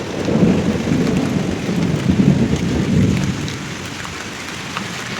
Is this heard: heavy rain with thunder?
yes